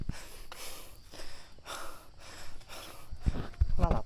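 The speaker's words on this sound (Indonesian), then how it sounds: "nada napas gue udah terdengar kan ngap" Heavy, labored panting breaths while hiking up a steep slope on Gunung Salak, coming in ragged bursts through the clip, close and fairly loud, with louder rough exhalations near the end.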